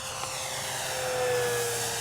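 Flightline Spitfire RC scale model warbird doing a full-throttle pass, its engine a steady, sustained whine with a rising tone, moderately distant and continuous throughout, without talk.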